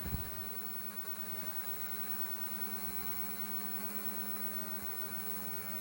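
A PİHA S76 toy drone flies with a steady, buzzing whir of small rotors holding at an even pitch throughout, close by and fairly loud with no voices over it.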